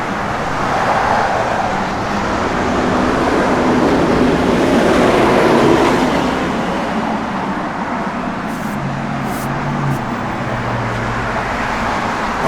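Broad, rushing outdoor wind noise buffets steadily throughout, swelling slightly in the middle, with a faint low rumble beneath and no talking.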